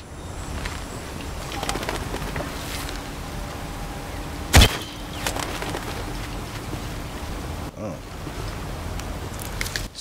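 A bird coos in a video game over a steady ambient background. A sharp, sudden click stands out near the middle, with fainter scattered bird sounds around it.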